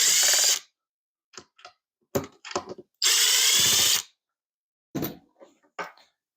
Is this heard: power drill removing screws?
yes